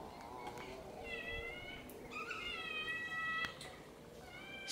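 A mother cat who has lost her four kittens cries in a series of drawn-out, wavering meows, moderately close over a low noisy background.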